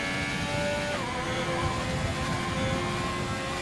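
Racing car engine held at full throttle on a straight in an Azerbaijan circuit racing game, a steady, loud high-revving drone with a brief pitch drop near the start, continuing unbroken.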